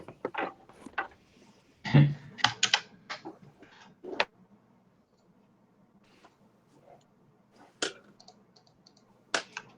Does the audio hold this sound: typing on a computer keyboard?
yes